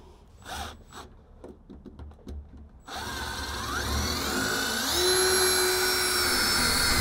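After a few short taps and clicks, a power drill whirs continuously at close range, its pitch rising as it bores in.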